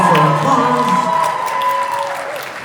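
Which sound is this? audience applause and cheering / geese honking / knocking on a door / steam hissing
audience applause and cheering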